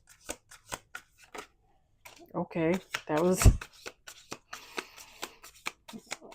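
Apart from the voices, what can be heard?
shuffling tarot cards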